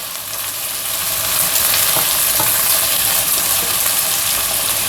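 Two large tomatoes sizzle loudly in a hot pan for a curry with flat beans, a dense, continuous frying hiss with occasional stirring clinks, close up and with no talking.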